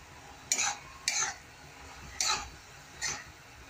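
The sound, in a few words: stirring peanut powder and garlic into cooking spring onion sabzi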